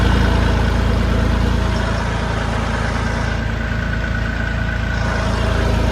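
A tractor engine running in a field during sowing with a rotavator, a loud, steady, close low rumble that drones on unchanged throughout with no talk.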